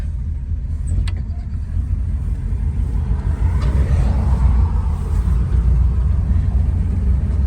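A 1971 Chevrolet Suburban pulling along in first gear, its engine a steady low rumble close by with no clear revving, the drone holding even throughout.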